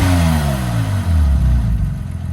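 A Porsche 996 Turbo fitted with a Fabspeed Gen 1 exhaust revs up loud and close, its engine note rising sharply and then settling back into a rough idle, with no voices.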